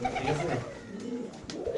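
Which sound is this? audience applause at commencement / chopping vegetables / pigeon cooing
pigeon cooing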